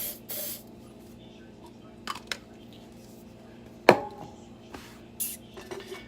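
Mold release sprayed from an aerosol can into a skate wax mold: one sharp hissing burst partway through, close and loud, set among quieter clinks and handling noises.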